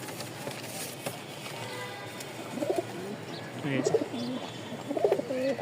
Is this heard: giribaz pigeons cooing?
yes